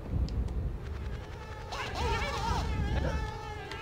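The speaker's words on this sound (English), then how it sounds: "Wait, where's the bees gone?" Swarm of bees buzzing in the Conker's Bad Fur Day video game, a steady whining drone with wavering tones that rises in the second half, continuous throughout.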